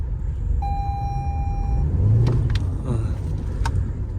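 Toyota Camry XSE hybrid car running with a steady low engine drone, joined by a sustained whine and a few brief clicks and taps nearby.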